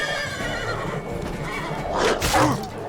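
A horse in The Witcher III neighs loudly near the end, a shrill whinny rising over steady ambient game noise and hoof sounds.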